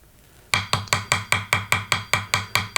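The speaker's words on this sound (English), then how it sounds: "put this on the anvil and then peen this other side down until it's nice and snug" Hammer peening a knife handle pin on an anvil during final assembly of a Damascus hunting knife: about eleven sharp, ringing metallic taps at an even, quick rhythm, close and loud, after a moment of quiet.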